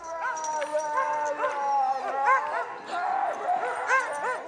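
Harnessed sled dogs in a kennel yard bark, yip and whine excitedly all at once, a dense, continuous chorus of overlapping voices at moderate distance.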